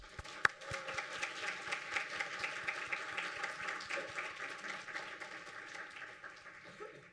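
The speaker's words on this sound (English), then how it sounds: "please join me in a warm round of applause for our recipients" Audience applause for faculty award recipients at a university provost's awards symposium, a moderate spread of clapping across a room with one sharp clap near the start, steady and fairly faint.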